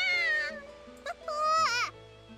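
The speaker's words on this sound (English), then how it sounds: "The black cat wraps itself around Michiru's leg like a fuzzy boa constrictor" Black cat meowing in The Fruit of Grisaia visual novel, two drawn-out tonal meows separated by a brief chirp, clear and close over a soft steady background tone.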